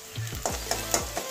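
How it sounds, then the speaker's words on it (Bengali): Chopped onion fries in a pan, a short burst of sizzling broken by a few quick scraping strokes of a spoon stirring it. "পেঁয়াজটা আমার ভাজা হয়ে গেছে, খুব বেশি লাল করবো না"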